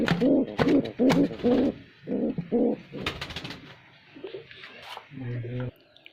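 Pigeons coo in low, throaty, repeated bursts on a rooftop pigeon farm, fairly close and clear, with a few short gaps between phrases.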